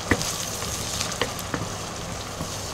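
Ginger paste fries with onions in a pan for gongura chicken curry, a continuous close sizzle with a few faint clicks of stirring.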